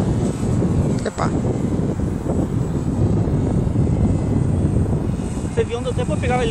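Radio-controlled model airplane engine buzzing on a windy day, a continuous droning propeller sound with wind noise on the microphone and people talking near the end.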